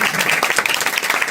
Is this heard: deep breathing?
no